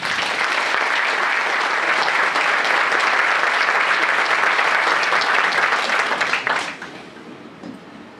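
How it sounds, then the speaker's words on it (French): A large audience gives loud, sustained applause for about six and a half seconds, a dense wash of clapping that then drops off quickly to scattered faint claps. "je voudrais qu'on les applaudisse à nouveau très fort"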